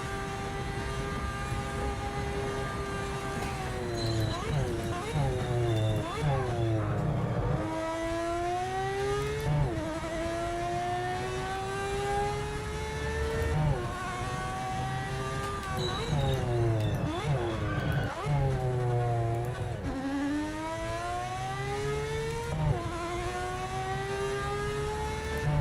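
A race car in the Project Motor Racing video game revs hard through repeated upshifts, its engine pitch climbing steeply and dropping at each gear change across several cycles, loud and continuous with a speaking voice faintly beneath.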